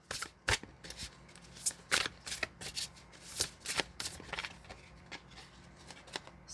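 Glossy tarot cards being shuffled by hand, a quiet, close run of irregular riffling flicks and slaps with no talking.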